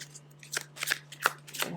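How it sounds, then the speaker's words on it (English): Tarot cards are shuffled by hand in a series of crisp riffling bursts, close and distinct, roughly five quick flutters in an uneven rhythm over a faint steady hum. "I usually shuffle them in view, so you see that I don't cheat"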